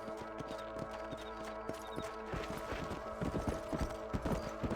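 Horse hooves clip-clop at a steady walking rhythm in Red Dead Redemption, close and clear over a soft game background, with no talking.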